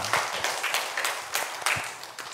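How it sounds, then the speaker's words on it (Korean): A church congregation claps at a moderate distance, a scattered run of hand claps that lasts a couple of seconds. "하나님께 영광의 박수를 드리겠습니다"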